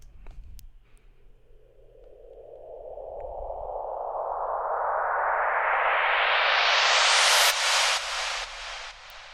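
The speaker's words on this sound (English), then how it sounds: "a white noise riser, and we're going to make it using the ES2 synthesizer" A white noise riser made on the ES2 synthesizer rises steadily in pitch and loudness for several seconds, then cuts off abruptly with a few stuttering tails.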